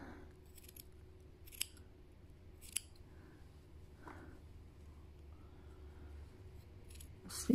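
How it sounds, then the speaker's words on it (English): Scissors cut into a hand-knit lopi wool sweater during mending, giving a few faint, sparse snips over a quiet room hum. "because I'm not afraid of cutting, I'll just cut"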